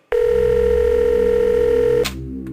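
Telephone dial tone: a steady, loud electronic hum that starts abruptly, holds unbroken for about two seconds, then cuts off with a brief click.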